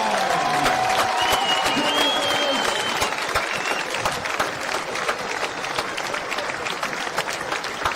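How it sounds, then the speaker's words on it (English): Loud, sustained applause from a large crowd at a rugby sevens tournament, dense clapping filling the whole stretch with cheers and whistles mixed in. "Merci de bien vouloir applaudir l'équipe de Nouvelle-Zélande Développement"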